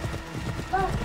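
A horse's hooves clip-clop in Assassin's Creed Odyssey, a quick brief series of muffled hoofbeats mixed with game sounds and a voice, lasting barely a second.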